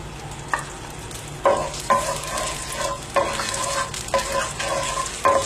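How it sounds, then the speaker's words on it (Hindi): Soy sauce hits hot oil in a kadai wok, sizzling steadily while a spoon scrapes and stirs in several sharp, repeated strokes. "जैसे ही थोड़ा सा गर्म हो जाए इसमें सोया सॉस ऐड कर दूँगा।"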